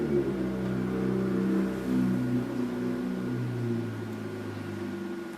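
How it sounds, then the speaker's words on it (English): A motorcycle passes outside a house, heard from indoors as a fairly faint engine drone. Its pitch rises and then slides down as it goes by, fading steadily toward the end. "That motorcycle going by just then was really fortuitous"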